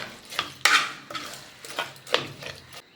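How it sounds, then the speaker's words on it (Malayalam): A utensil scrapes and clinks against a metal pot in irregular strokes while mixing a drumstick leaf dish, close and fairly loud, with no voices. "നമുക്ക് ഒന്നാണ് മിക്സ് ആക്കി കൊടുക്കാം"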